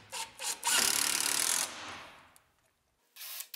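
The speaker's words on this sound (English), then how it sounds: "And I drive a few screws into the outfeed table to hold it up top." A power drill drives screws into a wooden outfeed table on a shop-built table saw dust collection arm, with a few short bursts followed by a sustained whirring run that fades out, then a brief burst at the end.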